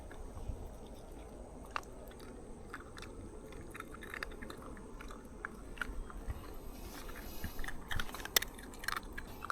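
Someone eating during a rest stop on a cycling trip, with soft, close crunching and chewing sounds continuing steadily throughout, quiet and unaccompanied by talk.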